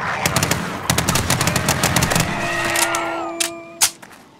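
Gunfire in the zombie survival game 7 Days To Die rattles in quick repeated bursts of sharp close shots, followed by a steady mechanical whine and a final loud blast.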